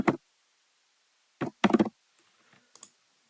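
Keys on a computer keyboard are struck while a password is entered, with short clustered bursts of clicks separated by pauses and a final quick tap pair; close, fairly quiet, no voices.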